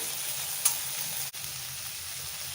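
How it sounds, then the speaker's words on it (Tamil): Sautéed onions with ginger-garlic paste frying in a pan for a paneer gravy, a soft steady sizzle with a brief clink and a dull knock partway through, no voices. "இது கூட இஞ்சி பூண்டு சேர்த்துக்கலாம் நான் ஒரு ஒன்றரை டீஸ்பூன் அளவு சேர்த்துக்கிறேன்"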